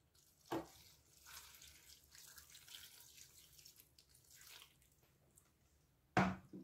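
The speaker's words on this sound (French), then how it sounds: "Maintenant, je vide l'eau." Water poured out of a cooking pot while making broccoli and mushrooms in a Cookeo, heard as two short splashing bursts at the start and end with a soft trickle and drips between.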